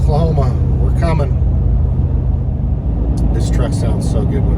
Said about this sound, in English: This truck sounds so good when it downshifts. We're crawling a hill right now.